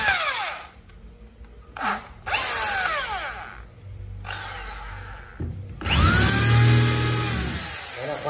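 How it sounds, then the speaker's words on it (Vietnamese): An electric hammer drill set to concrete drilling mode runs in several loud bursts with short pauses, whining up and down in pitch as the motor speeds and slows, with no talking. "các bác chuyển nấc khoan bê tông này"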